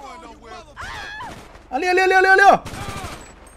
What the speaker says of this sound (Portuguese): Tá atirando aí, mano.